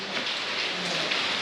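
Steady monsoon rain falls continuously outside a hotel in Bhiwandi, forming a dense, even hiss with no voices.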